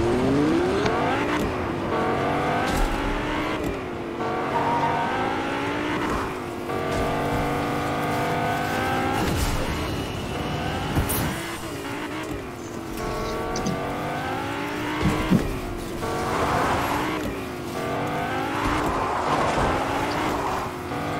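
Several cars in Fortnite drive past one after another, their engines revving and sweeping up and down in pitch, with occasional sharp bumps, over a constant game background.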